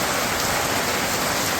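Light daily village rain falls in a steady, dense hiss and patter, even and unbroken from start to finish, with no voices.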